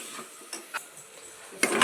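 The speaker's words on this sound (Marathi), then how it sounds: "आणि हे सगळं हलवून एकजीव करून घ्यायचंय" Rice stirred into a tempering in a pot for khichdi, heard as a few brief scrapes and clinks of a spoon against the pot, close and quiet with short pauses between strokes.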